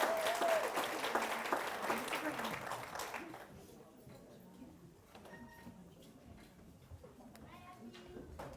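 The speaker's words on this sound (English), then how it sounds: "Let's give one more big round of applause." A round of applause at a third-grade Terrific Kid school award ceremony, clapping from a modest crowd that is fairly strong at first and then fades out after a few seconds into quiet room noise.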